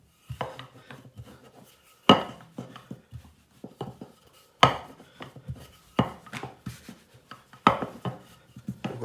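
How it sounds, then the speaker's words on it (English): Naan dough rolled thin with a rolling pin on a board, giving repeated close wooden knocks and rumbling rolling strokes in an uneven rhythm, with four or five sharper thumps as the pin is set down. "I will use a rolling pin just to get it as thin as I can"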